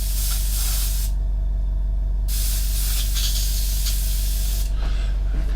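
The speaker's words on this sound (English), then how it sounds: "just a little bit of airbrush cleaner just down in here" An airbrush spraying airbrush cleaner during model work on a Millennium Falcon, a steady close hiss that cuts off briefly, resumes, then dips again near the end.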